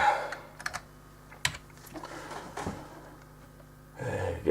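Rapid clicking of a computer keyboard during Arduino programming, quick irregular keystrokes at close range in a quiet room, ending in a short louder burst.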